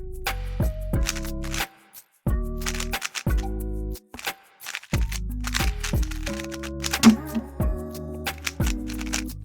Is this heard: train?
no